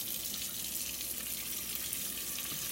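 Kitchen tap water running steadily into a sink or bowl while dumpling dough is being made, a continuous close hiss with no voices.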